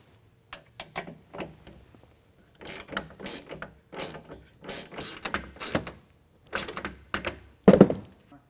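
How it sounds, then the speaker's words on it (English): A T27 Torx driver ratchets as it tightens Torx bolts on a Bak Revolver X4s hard roll-up tonneau cover rail on a 2020 Jeep Gladiator, giving irregular close clicking ratchet strokes in short bursts, ending with a heavier clunk. "using a T27, we can go ahead and tighten these Torx bolts down"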